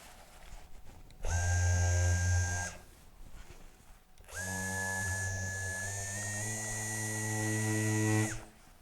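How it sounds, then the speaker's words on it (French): Mirka electric sander wet-sanding small dust grains with water-lubricated paper, two sustained steady buzzing runs, a short one then a longer one, separated by a quiet pause, with no talking. "je vais vous sabler les petits grains ici"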